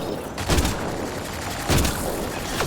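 Pistol gunfire hitting an enemy shield in the Mass Effect Andromeda video game, two loud, punchy bursts with crackling impacts over a dense, busy game soundscape.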